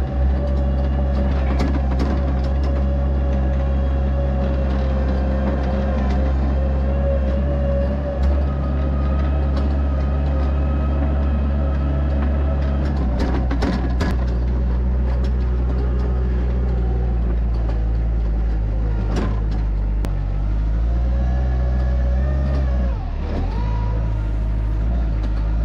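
A farm loader's diesel engine drones steadily at close range as it drives to collect a hay bale, with a deep constant rumble and occasional clanks and knocks over the top, and no voices.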